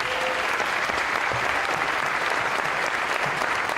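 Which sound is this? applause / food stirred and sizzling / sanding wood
applause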